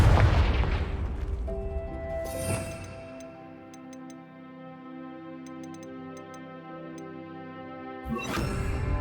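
Confringo fire spell cast in Hogwarts Legacy, a sharp explosive burst at the start followed by a ringing, tonal hum with light ticks, then another blast near the end.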